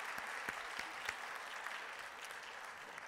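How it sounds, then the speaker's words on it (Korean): A church congregation applauds to encourage its worship team, with steady, dense clapping that holds for about three seconds and is fairly distant, with no talk over it. "오늘 특별히 특송하신 우리 한철 장로님 초원 그리고 우리 찬양팀 우리 박수로 좀 격려 부탁을 드리겠습니다"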